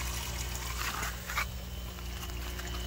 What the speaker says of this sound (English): Exits at the bottom here into this filter media and goes into the bio trickling filter